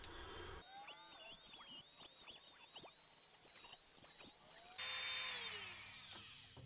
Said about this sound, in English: when I had my Dremel tool, but basically this is what I was doing. I was putting a notch in this side of these pliers